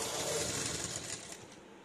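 A sewing machine stitches steadily along the folded edge of a fabric hair band, its motor whirring fast and close, slowing slightly toward the end with no voices.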